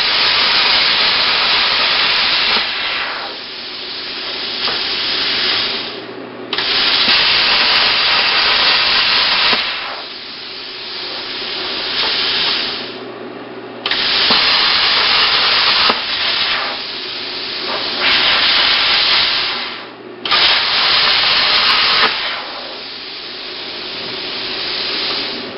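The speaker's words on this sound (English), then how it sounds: "I used a plasma cutter to cut that out, because there was no way that my jigsaw was going to do anything to it" Plasma cutter piercing holes one at a time in a stainless steel bracket, loud hissing bursts of several seconds each separated by short pauses, close and alone with no talk.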